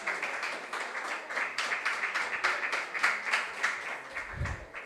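Audience members at a regional junior science and maths quiz final clap in a sustained burst of even, rhythmic hand claps, with a low thump near the end.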